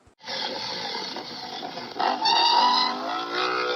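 A motorbike engine in a Tamil animated cartoon whines steadily, rising and revving higher partway through, close and fairly loud with a buzzy, rasping tone throughout.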